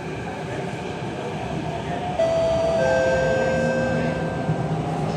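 SMRT CT251 metro train running between Caldecott and Springleaf, a steady loud rumble of the moving carriage with rising whine tones as it accelerates, heard from inside the car.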